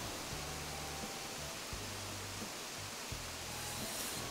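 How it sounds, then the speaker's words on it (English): A waterfall in the video game Animal Crossing New Horizons pours as a soft, steady rushing hiss, faint and even, while low game music tones play quietly underneath. "I don't want to block a whole beautiful waterfall."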